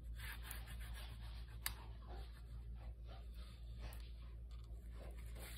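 Glue being rubbed off a journal page by hand, a faint, continuous dry scratching and rubbing at close range with a few soft taps, no speech.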